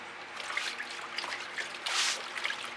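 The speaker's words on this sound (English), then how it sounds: "I'm going to let it fall right down over the edge slowly" Fluid acrylic pouring paint runs slowly off the edge of a canvas, a soft wet trickling and dripping close by with a brief louder splash near the middle.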